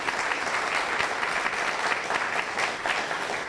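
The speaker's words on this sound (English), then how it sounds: "Can you please give them a round of applause?" Sustained applause from an audience at a high school awards event honoring founding members of an ensemble, steady dense clapping throughout with no break.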